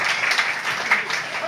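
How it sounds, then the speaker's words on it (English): A comedy festival crowd keeps up a continuous round of applause, many hands clapping together at an even loudness with a few sharper claps standing out. "And the nice people at the Comedy Festival who organised this round of applause as well."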